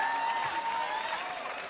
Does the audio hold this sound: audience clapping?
yes